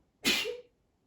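A young girl gives a single sharp, breathy sneeze close to the microphone indoors in the morning, a brief burst that fades quickly into quiet.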